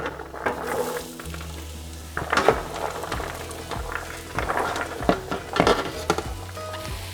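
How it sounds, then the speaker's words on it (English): Diced vegetables sautéing in bacon fat in a pot for seafood chowder: a soft, continuous sizzle broken by repeated scraping and clinking as the utensil stirs, with a faint low hum underneath. "These are sauteing away."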